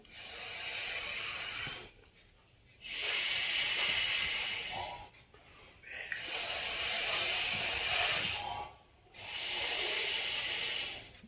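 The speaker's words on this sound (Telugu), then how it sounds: "ఇలా శ్వాస కుడి ముక్కుతో వదిలేసిన తర్వాత మీరు ఎడమ ముక్కుకు వచ్చి శ్వాస తీసుకోవాలి." Alternate-nostril pranayama breathing: four long, close, hissing breaths, each lasting two to three seconds, separated by short quiet pauses in an even, measured rhythm.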